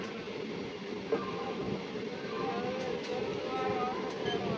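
Special passenger train with old ICF coaches, steady rolling rumble and rattle of the carriages heard from inside, continuous and moderately loud with faint voices in the background.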